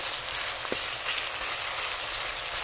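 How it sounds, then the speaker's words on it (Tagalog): Squid and shrimp ingredients sauté for adobong pusit in a hot pan, giving a steady, close, bright sizzle with one brief clink partway through and no voices. "Nagisa na natin ang ating ingredients guys"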